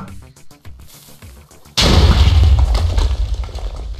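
A sudden loud dynamite explosion in Minecraft bursts in after quieter clicking game sounds, followed by a rumbling, crackling boom that slowly fades.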